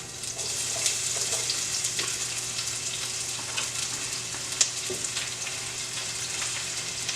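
Garlic and onion for a fish broth base fry in a hot pot, a steady bright sizzle running throughout with occasional stirring scrapes and small clicks, close and unbroken.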